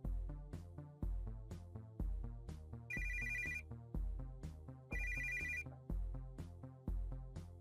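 A telephone in the video game Always Sometimes Monsters rings with a repeating electronic tone. A steady rhythmic music loop plays under it, and the ring comes in two short bursts.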